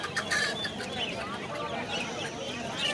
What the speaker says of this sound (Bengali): অনেক জাতের মুরগি।